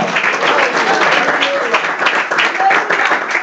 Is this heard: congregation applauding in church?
yes